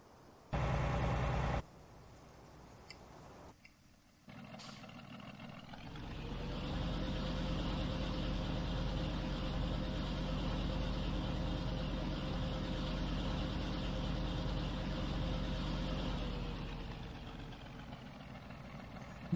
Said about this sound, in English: Now listen for the engine to change.